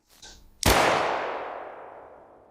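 A single loud pistol shot fired by John Wilkes Booth in a theatre, a sharp crack after a faint murmur, followed by a long reverberant decay.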